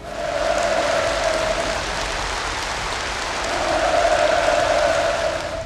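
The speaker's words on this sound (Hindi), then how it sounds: "परमाणु हथियारों पर संविधान संशोधन की घोषणा पर असेंबली हॉल तालियों से गूंज उठा।" Applause filling a North Korean assembly hall: a sustained, dense patter of many hands clapping at once, loud and even, swelling slightly near the end.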